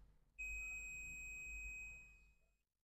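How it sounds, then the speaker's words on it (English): A multimeter on continuity test gives one steady electronic beep about one and a half seconds long as its probes touch, clear and close, then fading out, with no talking. "there will be that beeping sound and zeros, meaning there is no resistance, or that is a closed circuit"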